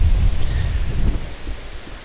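Low thunder rumbling beside the Southern Bug river on a windy day, a deep rolling roar that fades gradually, with wind buffeting the microphone.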